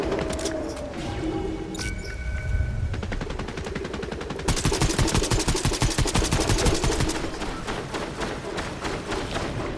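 Fortnite gunfire rattles in dense, rapid automatic bursts and scattered single shots, loud and nearly continuous throughout.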